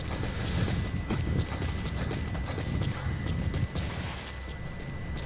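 A horse's hooves clip-clop steadily across rough ground in Metal Gear Solid 5 set in Afghanistan, a continuous close rhythm of hoofbeats over a dense background rumble with no talk.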